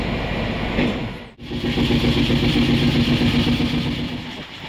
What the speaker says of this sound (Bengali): ট্রেন একদম রাইট টাইমেই ছেড়ে দিয়েছে।